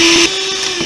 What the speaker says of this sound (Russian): И белок взбиваем.